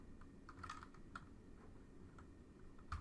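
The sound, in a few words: typing on a computer keyboard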